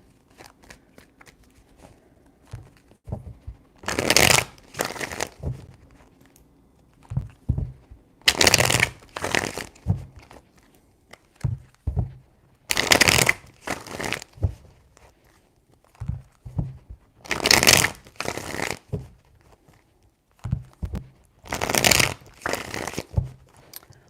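Tarot cards being shuffled by hand in five distinct bursts of rapid riffling, each a second or so long, separated by quieter pauses with soft handling taps and rustles, close and crisp.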